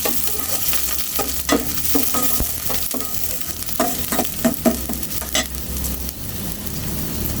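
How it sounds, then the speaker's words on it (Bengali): Chopped chillies and onion stirred in a hot pan for an eel and Malabar spinach curry, a steady oily sizzle broken by repeated scraping spoon strokes, close and fairly loud with no talking. "তারপর দিয়ে দিব কাটা মরিচ একটু নেড়ে চেড়ে দিব"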